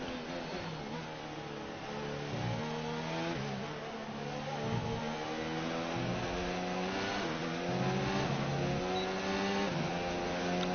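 A Formula 1 race car engine screaming in F1 2019, high revs climbing in steps through upshifts and dropping on downshifts, loud and continuous over about ten seconds.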